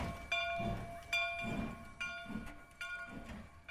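Train sound effect in a history podcast: a faint passenger train car rolling along with steady rhythmic clacks of wheels on rail joints and a sustained tonal whine, with no voices.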